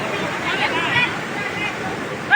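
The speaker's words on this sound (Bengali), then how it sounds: "দেখতে পাচ্ছেন কিভাবে পানি বের হয়ে যাচ্ছে।" River water rushes out through a breached embankment in a steady, close roar of churning flow, with people's voices mixed in.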